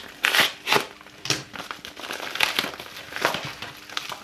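Plastic parcel packaging from AliExpress crinkles and rustles up close as it is opened, in bursts of loud crackling handling with short pauses between.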